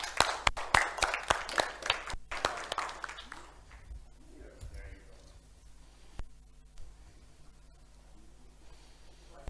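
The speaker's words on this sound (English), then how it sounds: "Round of applause." Conference audience applauding as a games-industry innovation talk is introduced: dense, loud clapping for about two seconds, then tapering into scattered claps and room murmur.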